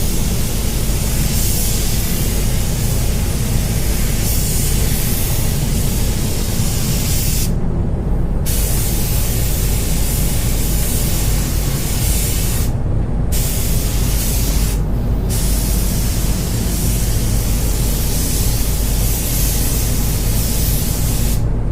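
A spray gun lays down a coat of paint over a backmasked area, giving a loud, steady hiss that runs almost without a break, cutting out briefly three times before resuming.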